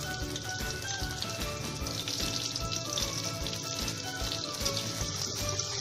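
Chopped onions frying in a pan for egg khichuri, a continuous bubbling sizzle with soft crackles that carries on steadily and evenly throughout, no voices.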